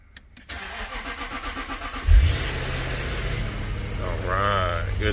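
A Jaguar XK8's engine cranks with a rhythmic starter churn after a jump start, catches with a sudden roar and settles into a steady idle, with a voice speaking over the running engine near the end.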